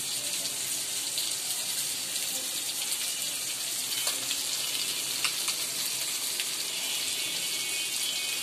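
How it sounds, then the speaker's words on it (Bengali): Lentils go into a pan to cook, giving a steady, hissing sizzle with a few faint clinks over it, heard close and without talk. "এই যে ডাল যাচ্ছে, ডাল"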